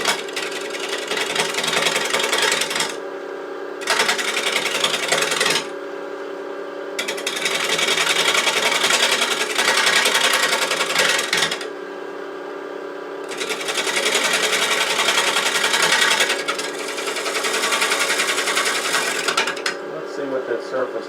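Lathe gouge sweeping across a large cherry burl bowl blank turning slowly, a loud, close, steady rasping cut in long passes broken by short pauses as the tool lifts away.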